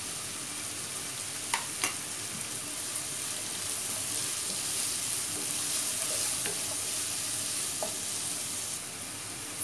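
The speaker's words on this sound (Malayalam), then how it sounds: "ഈ വഴന്നു വരുന്ന സവാളയിലേക്ക് നമുക്ക് 1 ടേബിൾ സ്പൂൺ പെരിഞ്ജീരകം ചേർത്ത് കൊടുക്കാം." Sliced onions sautéing in a pan with fennel seeds stirred in for a soya chunks fry, a steady broad sizzle with a few light scrapes and taps of a spoon throughout.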